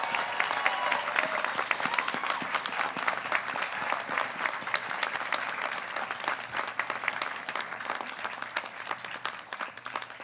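Audience at a college commencement for the College of Agricultural Sciences breaks into sustained applause with scattered cheers, a dense wash of clapping from a large crowd that holds steady throughout.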